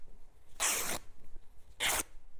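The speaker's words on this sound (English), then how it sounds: "I'm going to go ahead and just snip this and rip it in half" Plain weave fabric is torn in half by hand in two quick, raspy rips about a second apart, close and fairly loud against a quiet room.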